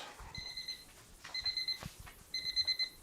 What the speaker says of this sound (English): that is my timer for the rice.